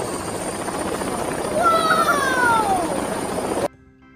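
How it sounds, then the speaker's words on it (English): A helicopter sound effect in a children's phonics song gives a steady whirring rumble for several seconds, with a sweeping, voice-like tone rising over it midway before it cuts off abruptly. "H for helicopter."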